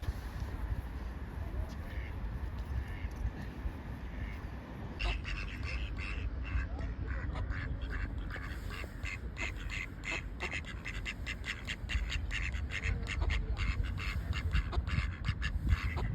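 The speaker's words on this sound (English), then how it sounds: "And I saw some ducks swimming like this." Ducks quacking on a river beside a bridge in Passau, a scatter of close, repeated calls over steady outdoor noise, growing busier in the second half.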